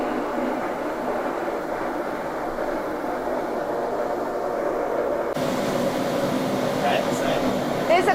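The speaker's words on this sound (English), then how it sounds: "Switch on the first knob, which is the motor." Sandblasting machine motor running with a steady, even mechanical hum and whir that holds throughout, shifting slightly in tone partway through, with a few faint clicks near the end.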